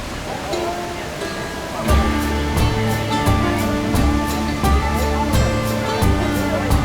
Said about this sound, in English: The Big Sur River races through this granite gorge with such force